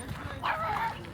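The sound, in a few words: small dog yipping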